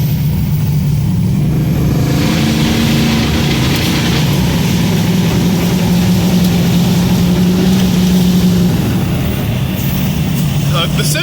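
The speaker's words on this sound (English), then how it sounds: "I hope the camera is picking up how beautiful this truck sounds." Truck engine revving steadily while driving off-road, a loud continuous low rumble with rising and falling throttle throughout.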